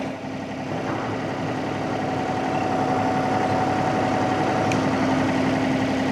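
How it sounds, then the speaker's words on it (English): Tractor engine idling steadily with the PTO engaged and a fertilizer spreader hooked up, a constant close drone with a faint hum and no talk. "Well, we might as well test out the PTO while it's hooked up."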